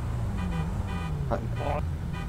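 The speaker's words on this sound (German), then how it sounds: "Hör mal auf zu hupen." Several short car horn honks in GTA roleplay, one after another, over a steady engine rumble, loud and close.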